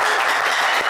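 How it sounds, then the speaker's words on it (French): A studio audience on an Ivorian TV game show breaks into loud, dense applause. It is a thick, steady wash of clapping that fills the whole second without a break. "Ça s'applaudit bien fort."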